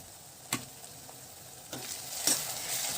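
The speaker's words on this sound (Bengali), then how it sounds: "মশলাটা আমি খুব ভালো মতো করে নাড়াচাড়া করে নিয়েছি" Ground spices, salt, red chilli, cumin, coriander and turmeric stirred and frying in a pan for katla fish kalia, a soft sizzle broken by a few distinct spatula scrapes and taps.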